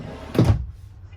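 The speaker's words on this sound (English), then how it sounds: "And then you do have a drawer as well." A drawer slides open inside a 2021 Salem Hemisphere 310BHI bunkhouse travel trailer, giving one short, close rolling thud and scrape that fades into quiet room tone.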